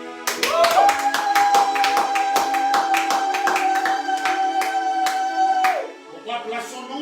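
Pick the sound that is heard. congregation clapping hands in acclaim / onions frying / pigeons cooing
congregation clapping hands in acclaim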